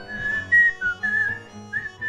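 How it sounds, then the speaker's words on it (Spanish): A crowd whistling a song together at a live concert, the melody carried by many overlapping whistles in short rising and falling phrases, fairly loud and steady with no talking. "El estribo se lo ponen a silbar y empiezan a silbar todos ahí adentro"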